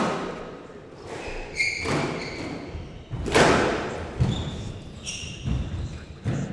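A squash match in a Premier League rally between Glenn Templeton and Michael Shelton: a series of sharp ball hits and wall thuds echo around the court, with squeaking shoes and crowd noise.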